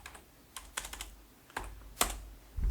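Someone types on a computer keyboard at close range, with a few scattered key taps followed by short bursts of quick clicking and one heavier keystroke, no voices.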